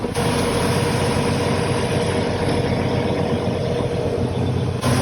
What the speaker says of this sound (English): I am driving a tractor.